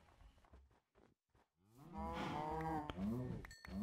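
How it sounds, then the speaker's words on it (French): Cows mooing in a Minecraft-like video game, a few soft clicks first, then a loud drawn-out low moo followed by a second shorter moo, close and clear. "Oh là là, il y a des vaches."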